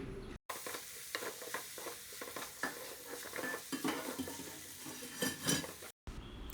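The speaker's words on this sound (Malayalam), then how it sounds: "പിന്നെ ഒരു കാല് സ്പൂണ് മഞ്ഞൾപ്പൊടി നല്ല മിക്സ് ചെയ്യുക" Spoon stirring turmeric and chili powder through semiya beef biriyani in a pan, repeated scraping and metallic clinks over a soft sizzle of frying, close and continuous.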